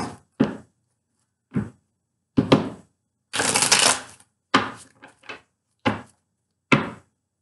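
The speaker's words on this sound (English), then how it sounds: "More shuffles." Tarot cards being shuffled by hand, a series of short, crisp riffling bursts with one longer rippling shuffle in the middle, close and separated by silences.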